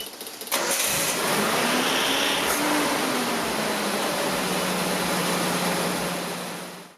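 Engine of a Nissan 720 pickup idling after an engine flush treatment is added, starting with a short crank and settling into a steady, loud hum and whir that holds for several seconds before cutting off.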